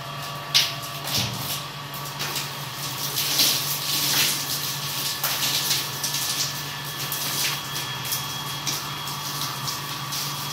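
Water driven by a motor pump gushes out under pressure around a new house in a Konkan village, a steady hissing rush with a low motor hum running underneath throughout.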